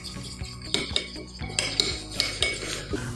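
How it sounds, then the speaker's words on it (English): Mustard and maple syrup stirred together with a utensil in a bowl, a series of close clinking and scraping taps in an uneven rhythm, fairly quiet with no talk. "And then we'll mix it up really well."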